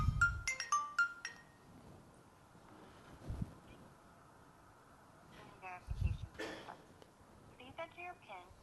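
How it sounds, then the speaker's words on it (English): A mobile phone rings in a conference session, its tone faint and intermittent in short bursts amid background room noise and occasional speech. "There, my phone is ringing."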